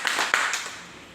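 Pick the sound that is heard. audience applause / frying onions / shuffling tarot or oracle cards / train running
audience applause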